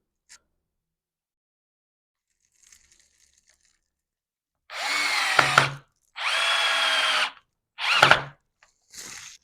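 A power drill drives screws into wood while a ping-pong table is assembled, giving three loud, close whirring bursts of about a second each, separated by short pauses, with faint clicks before.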